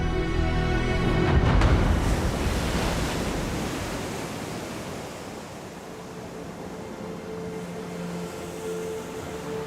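Waves break and wash in frozen seas off the Falkland Islands, making a broad, steady rush. The surge is heaviest at the start, then settles into a softer continuous wash, with no voices.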